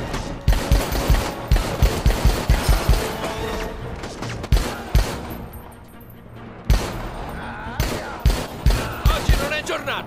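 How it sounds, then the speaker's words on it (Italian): Rapid gunfire from the video game Dead Rising 4, loud repeated bursts of shots in quick succession with brief lulls, continuing across the whole stretch. "ogni tanto mi viene da ricaricare quando sparo"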